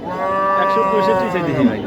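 A local cow at a large Eid cattle market in Dhamrai, Dhaka, gives one long, steady, close moo lasting nearly two seconds.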